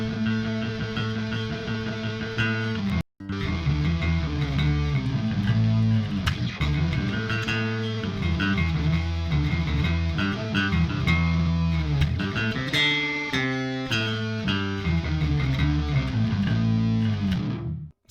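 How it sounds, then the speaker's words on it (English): Bass guitar played through a Guitar Rig 6 distortion preset, with a thick, heavily distorted tone that sustains loud and continuous, broken only by one brief pause. "So there's some interesting combinations with bass as well as distortion."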